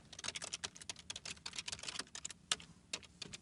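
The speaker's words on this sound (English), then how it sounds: "So I can start typing." Rapid typing on a computer keyboard, a close, dense run of crisp key clicks in an irregular rhythm with brief pauses, quiet and alone with no voices.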